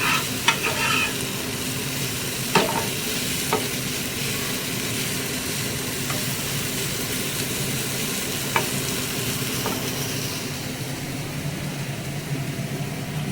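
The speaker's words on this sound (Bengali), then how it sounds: "উচ্ছে ভাজা করছি" Bitter gourd fries in a pan in a home kitchen with a steady, close hiss and crackle. A few sharp utensil taps and scrapes punctuate the sizzle, and a faint low rumble sits in the background. No speech.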